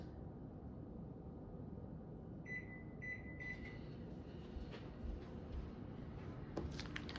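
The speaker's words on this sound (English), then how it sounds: "I'm gonna zap it for like 10 seconds at a time" A microwave oven heating peanut butter cup filling made with Jif peanut butter gives a steady, faint, low hum, broken by a few short, high beeps midway through.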